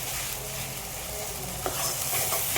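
Ginger garlic paste sautéing in a pan for soya gravy, a steady close sizzle with faint stirring scrapes, alone without talk.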